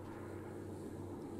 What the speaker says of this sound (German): Da fliegt ein Flugzeug.